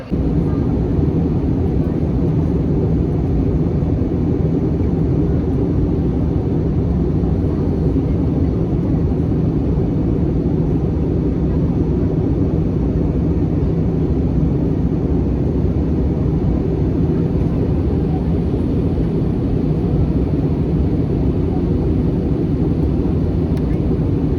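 Steady, loud low-pitched rumble of an airplane cabin in flight shortly before landing on a trip to Boracay, continuous and unchanging throughout, with no clear talking over it.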